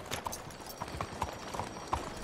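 Horse hooves clip-clop in a steady trotting rhythm as a rider travels in the video game Red Dead Redemption 2, moderately close against a faint outdoor ambience.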